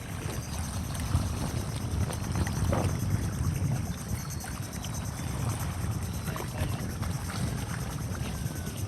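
Outdoor sea scene off Barotac Viejo, Iloilo, Philippines, with many fishing boats heading out, wind buffeting the microphone and a low, continuous rumble of water and engines in the distance.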